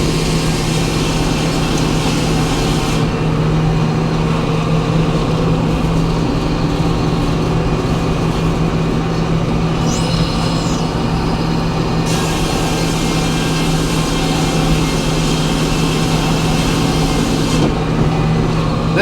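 A sawmill runs steadily with a loud, continuous mechanical drone and whine of a blade cutting through a larch log, constant throughout with no talking.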